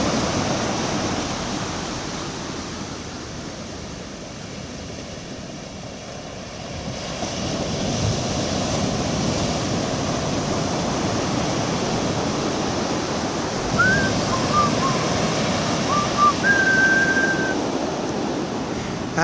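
Ocean swell washing onto the beach at Port Ouest, Réunion, at dusk, a steady broad roar of surf that swells louder partway through, with a few faint bird-like chirps near the end.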